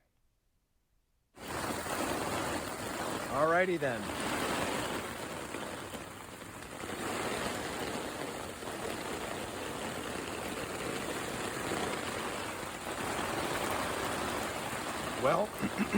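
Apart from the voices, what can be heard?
rain falling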